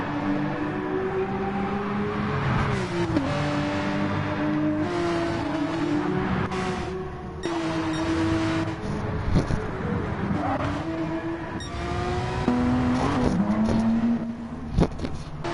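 Porsche Cup race cars lap Barcelona-Catalunya on qualifying runs with fresh tyres, engines droning loud and steady with rising and falling pitch as gears shift, cars passing close one after another.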